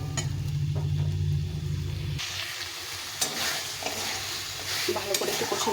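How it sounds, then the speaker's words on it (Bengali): Boiled chickpeas fry with spices in a pan, producing a loud hissing sizzle and repeated scraping stirs up close. A sharp clatter comes about midway, and no one speaks. "এখন ছোলাটাকে একটু কষিয়ে নেব মশলার সঙ্গে"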